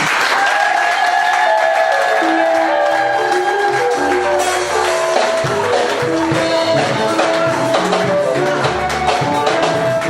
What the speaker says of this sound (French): Sous mes applaudissements.